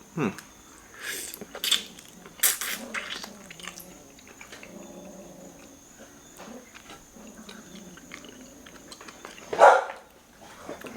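Dogs bark a few times in the distance, scattered sharp barks over a quiet indoor background with a faint steady tone.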